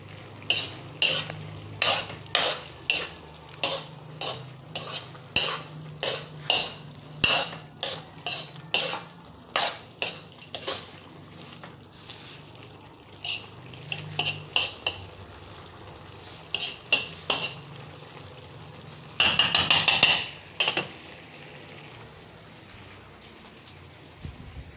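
Santol cooked in coconut milk in a pot, stirred with a utensil: a long run of rhythmic clinks and scrapes against the pot, pausing now and then, with a quick flurry of scraping near the end.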